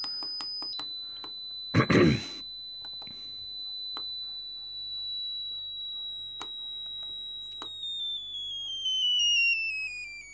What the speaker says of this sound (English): can see the limitations of piezo buzzers